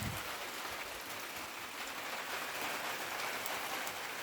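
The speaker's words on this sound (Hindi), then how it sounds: "कल परसों रात से बारिश हो रहा है" Steady monsoon-season rain in a village in Ballia district, India, falls and patters on surfaces in a constant, even hiss, with no voices.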